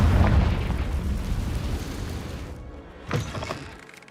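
Spell blast from Confringo in the Hogwarts Legacy video game: a loud, booming explosion rumbles at the start and decays over a couple of seconds, followed by a smaller burst near the end.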